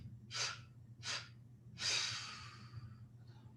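Three breathy exhalations during a guided breathing exercise: two short, even puffs followed by a longer, drawn-out breath that trails off, close and fairly soft, over a faint low hum.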